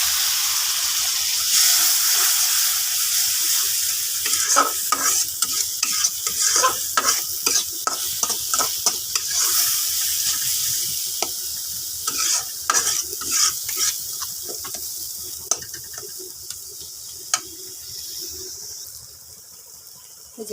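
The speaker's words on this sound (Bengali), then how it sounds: "সব মশলা দিয়ে দিলাম এখন কষায় নিলাম পানি" Chili powder, coriander powder and other ground spices fry and sizzle in a pan while a spoon scrapes and stirs them in repeated strokes over a steady hiss.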